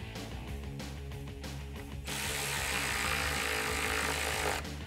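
An 8mm bolt securing the power steering tank to the fan shroud of a 2005-2010 Mustang GT is run in by a power tool, with a short ratcheting burst followed by a louder, steady mechanical whir, close up and with no talk.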